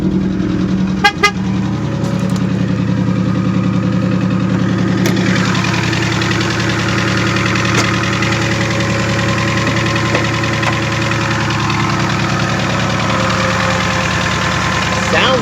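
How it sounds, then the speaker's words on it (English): A Whipple-supercharged 2019 Mustang GT V8 idles steadily up close with the hood open, a constant low rumble carrying a faint rhythmic tick that may be rod knock or blower noise, with a couple of brief clicks near the start. "it's hard to tell if it's like some blower noise or if something is really like knocking a little bit"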